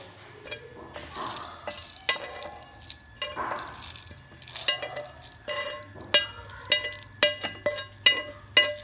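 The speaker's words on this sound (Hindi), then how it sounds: "ये सारे मसाले डाल के पैन में इनको फ्राई करके निकाल लेते हैं।" Whole spices sizzle and crackle in a hot pan while a utensil stirs and scrapes, with sharp clinks against the metal growing more frequent, as spices are fried for beef nihari.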